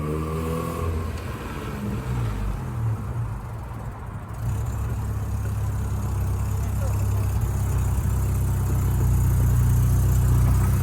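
A Volkswagen Rabbit, worn and rusty and recently fitted with new shifter linkage, idles steadily close by with a low, continuous engine rumble that grows slightly louder and fuller toward the end, with no talk.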